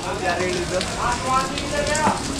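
Steady rain patters and hisses across the whole clip, a dense, even wash of drops with no voices, on the Kedarnath pilgrimage route in the Himalayas.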